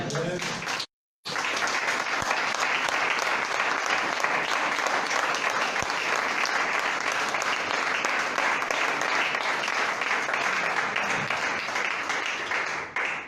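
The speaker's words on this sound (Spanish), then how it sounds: "Denle un aplauso, señor." A church congregation claps loudly and continuously during a Spanish-language sermon, a thick sustained roar of hands after a short pause, lasting over ten seconds with a voice faintly underneath.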